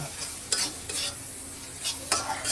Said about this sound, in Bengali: হলুদের গুঁড়া মরিচের গুঁড়া দুই চামচ ধনিয়ার গুঁড়া এক চামচ সবগুলো মশলা আবারও ভালো করে কষিয়ে নেব